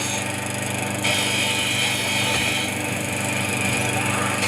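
A lawnmower weapon in the Xbox 360 game Dead Rising runs with a loud continuous engine buzz and grinding rasp, a voice talking over it.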